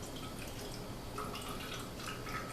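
Homemade almond milk trickles and drips through a very fine strainer, a soft continuous patter of liquid heard close up with no talking.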